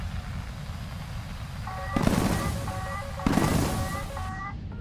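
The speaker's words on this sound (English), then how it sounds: "Something behind me is launching missile after missile at me right now." Missiles launch repeatedly in a flight combat video game, two loud broadband whooshing bursts over a steady jet engine rumble, with tonal warning beeps cutting in and out between them.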